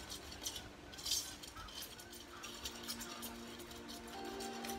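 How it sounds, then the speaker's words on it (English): Bath bomb powder ingredients being stirred in a bowl, with soft scraping and light clinks of a utensil against the bowl, faint and close, with one louder clink near the start. "And then we're just gonna mix this very well"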